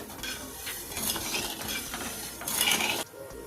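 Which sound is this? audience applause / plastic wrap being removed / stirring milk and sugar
stirring milk and sugar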